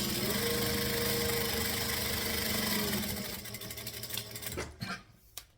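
A sewing machine stitches and backstitches fabric at a steady, quick mechanical whir for about three seconds, then stops, leaving a few faint clicks and handling noises.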